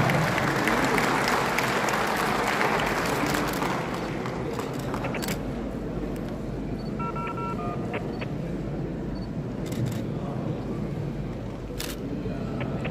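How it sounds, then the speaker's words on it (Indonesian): Audience applause for presidential candidate Anies Baswedan at a DPD RI forum, loud dense clapping that slowly thins after a few seconds, with scattered camera clicks and faint murmurs over the fading tail. "Tepuk tangan yang hebat untuk Capres kita"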